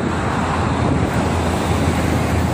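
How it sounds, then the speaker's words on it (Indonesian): Strong wind buffets the microphone beside the Jakarta–Cikampek toll road in the morning, a steady loud roar with a constant rumble of passing traffic underneath and no talking. "Anginnya cukup lumayan kencang pagi ini"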